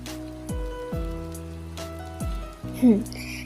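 Rain falls in a steady, soft patter under gentle music with drooping tones, and a brief louder sound comes near the end.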